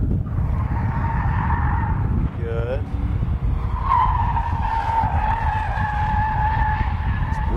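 Police patrol car tires squealing and skidding hard through a wide turn on a driving training course, a sustained loud screech over engine noise, with someone briefly speaking.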